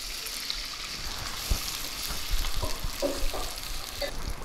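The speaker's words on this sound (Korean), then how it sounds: "파, 마늘 향 날 때까지 볶아주시면 됩니다." Green onion and garlic sizzle steadily in a hot pan for a vegan shiitake mushroom mapo tofu, with a spatula scraping and knocking as they are stirred, fairly close.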